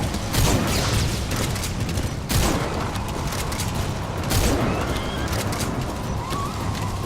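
Rapid video-game gunfire from Metal Gear Solid 5 crackles in repeated bursts with heavy booms, loud and close, over a continuous rumbling mix of combat noise.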